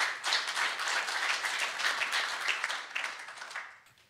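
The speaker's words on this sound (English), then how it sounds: "And I think that needs to be applauded." Audience applause fills a meeting hall at the South African Radio League AGM, steady clapping from many hands lasting about four seconds before fading out.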